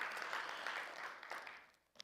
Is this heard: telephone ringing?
no